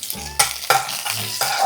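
Garlic hits hot oil and sizzles in a pan, a bright crackling hiss in quick bursts as it is stirred in, close and loud with no talk.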